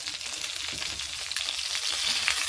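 Pieces of guinea fowl brown in a hot pan, giving a steady, close crackling sizzle with small pops and no voices.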